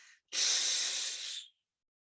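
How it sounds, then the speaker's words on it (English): A group breathing exercise ends in one long, forceful exhale: a loud, close, airy rush of breath that lasts just over a second and then cuts off into silence. "Together we exhale."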